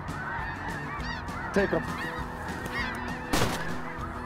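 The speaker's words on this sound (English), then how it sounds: "It really is just amazing to be out here and hear and see all these geese." Snow geese honk while flying over a hunting spread in Manitoba, a dense overlapping chorus of calls from a large flock with a few louder nearby honks, under a brief spoken remark.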